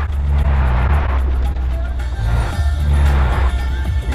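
A car engine in the video game Far Cry 4 roars loud and close, a steady low rumble that swells and dips as the vehicle drives and revs, continuous for the whole stretch.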